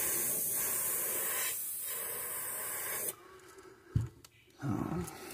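Airbrush hissing a steady spray of paint down the back of a shad-pattern fishing lure, a continuous close airy hiss that stops abruptly partway, followed by brief handling noises.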